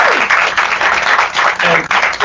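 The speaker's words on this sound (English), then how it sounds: "See, give that a round of applause." Audience applause breaks out loudly and close, a dense burst of clapping with slight surges, over a few moments with some crowd voices mixed in.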